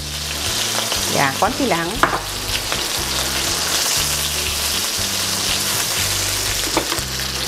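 Garlic sizzling in olive oil in a pan, a loud, steady crackling hiss like heavy rain, with occasional stirring scrapes; someone speaks briefly near the start.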